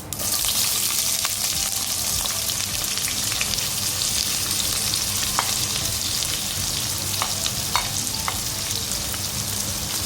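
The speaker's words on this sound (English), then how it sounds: "Now you need to fry the onions" Onions with cumin seeds fry in a pan for masala dosa, giving a steady close sizzle with occasional sharp pops and crackles throughout.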